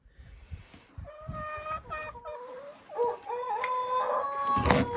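Hens cluck and a rooster crows inside a henhouse, a series of nearby calls and a rising crow toward the end, with scuffling and rustling between them.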